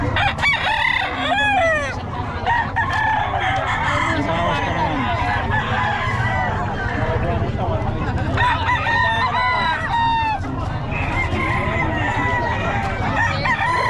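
Several roosters crow repeatedly over continuous clucking and farmyard noise, with someone talking briefly in Tagalog in the background.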